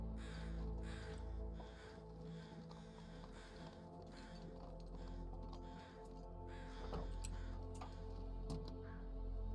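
Crows caw a few times over a low hum in the survival game The Long Dark, the calls short and fairly faint against the ambient background, with no talking.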